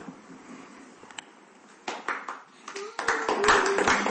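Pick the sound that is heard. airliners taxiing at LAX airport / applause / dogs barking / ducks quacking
applause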